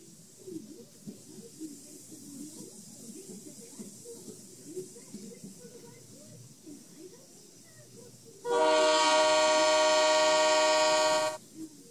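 Train horn from the Trainz 2 mobile railway video game, a loud sustained harmonic blast lasting about three seconds, sounding alone after a stretch of quiet low background rumble.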